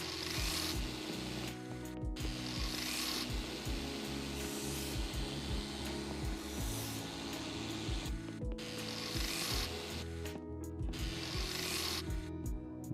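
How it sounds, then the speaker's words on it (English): In Car Dealer Simulator, a finishing or polishing machine works over a car body, making a continuous whirring, humming mechanical drone with repeated clicking pulses and occasional brief gaps, steady and fairly quiet, with no talk. "for me this thing looks like a polishing machine"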